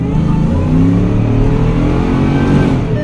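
A 700 hp Ford F150 with a Roush or Whipple supercharger revs hard, a loud, deep, rumbling engine roar that surges and holds close by for about three seconds, with no talking.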